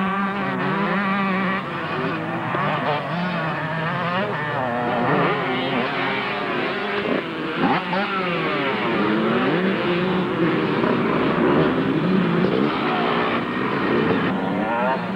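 Yamaha motocross motorcycle at a desert track in Mansfield, its engine roaring and revving hard as it races past, loud and close with a continuous howl that shifts in pitch, no talk.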